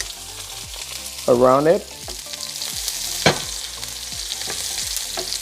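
Steak searing in melted butter in a hot pan, with a steady sizzling hiss broken by sharp pops and crackles; a brief voice-like harmonic burst rises early on, and faint speech sits under the frying.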